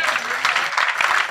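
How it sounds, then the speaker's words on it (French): A church congregation applauds during an Easter Sunday morning service, brief dense clapping with voices mixed in. "Applaudissez le Seigneur."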